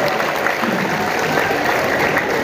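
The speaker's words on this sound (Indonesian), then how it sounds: "Tepuk tangan buat Pak Gubernur" A crowd applauds the governor at a Maulid Nabi celebration at Golden Prawn, Bengkong, Batam, a dense, continuous clapping that fills the whole moment at close range, with no one speaking over it.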